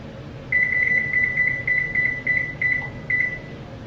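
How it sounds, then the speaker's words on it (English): Kitchen oven timer beeping near and clear, a run of about nine short evenly spaced electronic beeps with a faint hum of room noise behind them. "Use your handy dandy oven timer."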